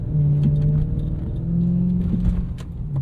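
A Toyota 1UZ V8 engine idles with a steady deep rumble, a low throbbing hum holding even throughout, with faint clicks and rattles on top.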